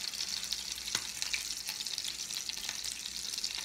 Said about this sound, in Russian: Итак, все котлетки буду жарить.